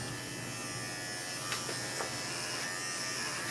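Cordless Bravura dog grooming clippers running on a Shih Tzu, a steady close electric buzz held throughout with a couple of faint clicks, no talking.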